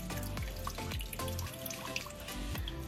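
Water pours steadily out of the exhaust muffler of a Mitsubishi Xpander, a continuous close splashing trickle with a few drips and gurgles.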